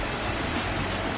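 Waterfall on Corsica, a steady broadband rush of falling water filling the whole short stretch at an even, constant level with no voices.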